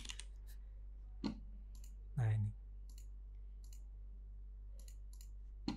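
Sparse clicks from a computer keyboard during an online finance lecture, a few isolated keystrokes spread out and fairly quiet, with a brief spoken word in the middle.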